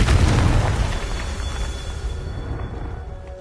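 A Confringo explosive spell cast in Hogwarts Legacy: one loud, deep boom hits at once and then rumbles and fades away steadily over about three seconds, with nothing else heard.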